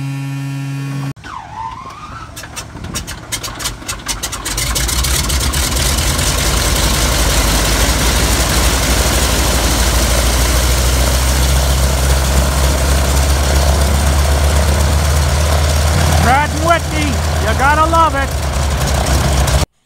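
A DHC-2 Beaver on amphibious floats starts up, and its radial engine settles into a loud, steady idle that drones continuously up close, with a rising whine from the cockpit near the end.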